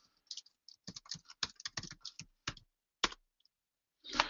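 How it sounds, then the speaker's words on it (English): Computer keyboard typing, a quick irregular run of close, soft key clicks and taps in short bursts, ending with a brief rustle. "I'll type that in right now."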